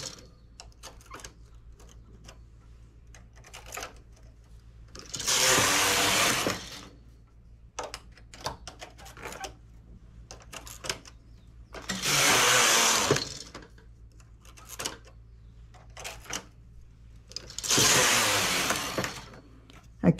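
A domestic knitting machine carriage sweeps across the needle bed three times while knitting a round baby-cardigan collar, each pass a loud, broad swishing rattle lasting about two seconds, separated by quieter clicks and handling sounds.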